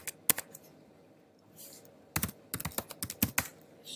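Keys clatter on a computer keyboard as a web address is typed in, a quick irregular burst of sharp clicks after a brief lone tap and a pause, close and fairly quiet, with no voices.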